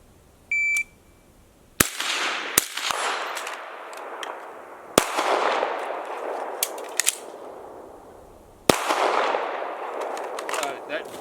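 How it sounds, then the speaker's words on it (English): Pistol shots during rifle and pistol training ring out as several sharp, loud cracks spaced a second or more apart, each trailing into a long echoing decay, with a brief beep before the first shot. "That pistol shot just felt bad."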